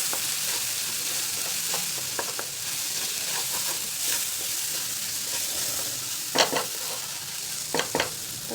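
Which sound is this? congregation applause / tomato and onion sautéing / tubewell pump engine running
tomato and onion sautéing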